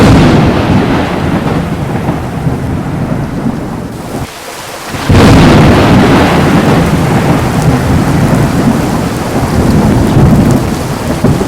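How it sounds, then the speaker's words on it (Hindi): Heavy rain pours steadily while rolling thunder rumbles, briefly dropping away for a moment before a loud crack and downpour return at full strength; no voices. "देखो कितनी बारिश हो रही है"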